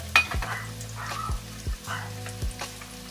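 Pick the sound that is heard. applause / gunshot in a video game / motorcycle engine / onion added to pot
onion added to pot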